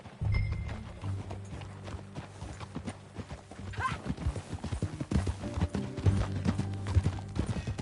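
Horse hooves clip-clop steadily in Red Dead Redemption 2, a brisk ride up close with a brief whinny, carrying alongside game music and occasional voices.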